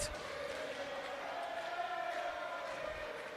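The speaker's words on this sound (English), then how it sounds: "the Slovakian fans in the crowd try to spur them on with the Slovensko chant" Slovakian fans in an arena crowd chanting Slovensko at a women's Canada versus Slovakia game, a sustained, somewhat distant rhythmic chant filling the hall, with a commentator's voice faintly over it.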